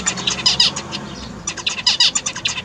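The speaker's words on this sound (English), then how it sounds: "these birds really sing to their unhatched chicks to cool them down" Australian zebra finch sings a rapid string of high, nasal chirps and trills in two bursts with a short pause between them. The bird sounds close and clear, with no voices.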